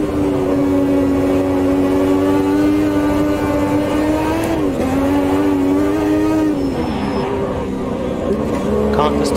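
A turbocharged 1986 Formula 1 race car engine in Automobilista 2 drones loudly and steadily at high revs, its pitch dipping and rising through gear changes, with someone talking over it.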